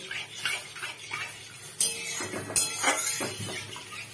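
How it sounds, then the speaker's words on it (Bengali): Water poured over mung dal lentils in a pot for washing, with splashing and clinks of the vessel in a home kitchen, a few close pours and sloshes. "এবারে জল ঢেলে ধুয়ে নেব"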